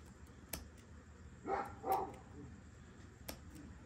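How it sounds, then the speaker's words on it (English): Dog named Dante gives two short, moderately loud barks in quick succession, somewhat distant, in an otherwise quiet space with faint background noise. "Sorry about Dante barking."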